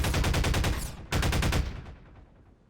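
A pulse rifle in Half-Life 2: Lost Coast fires two rapid, loud bursts of evenly spaced shots at close range, separated by a brief gap, with the final shots echoing away into a fading tail.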